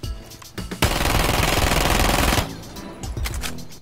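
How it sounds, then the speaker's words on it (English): Dokkaebi's original gun in Rainbow Six Siege, a loud sustained fully automatic burst of about a second and a half, preceded and followed by scattered shorter shots. "I don't like the sound of this gun, so in this video I changed the gun sounds from this"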